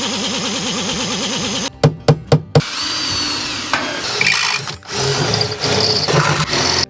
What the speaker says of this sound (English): Earthing bolts going in. I'm just using some stainless steel M8 bolts.